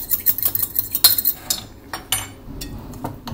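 A spoon stirs glaze made with a tablespoon of milk in a bowl for an apple tart, giving quick, close metallic clinks and scrapes against the bowl with no talking.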